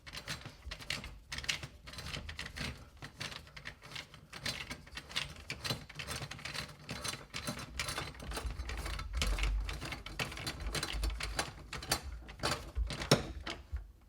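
Screws being tightened down on a bathtub flange with its rubber seal during a tub install; faint, close ratcheting clicks repeat in a dense irregular train throughout.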